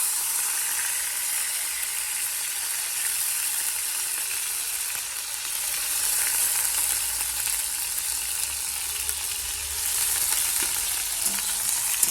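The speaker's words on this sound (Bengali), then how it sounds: "পেঁয়াজগুলো এখন তেলের মধ্যে ভালো করে ভেজে নেবো" Chopped onions and chillies fry in oil in a wok, giving a steady, close, continuous sizzle for the whole stretch with slight surges and no speech.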